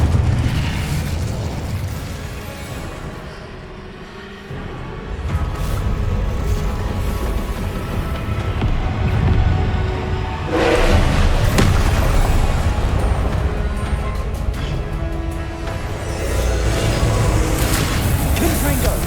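Incendio fire-spell blasts during Hogwarts Legacy combat, a loud, nearly continuous stream of booming bursts and crackling impacts layered over dense battle noise, with voices in the mix.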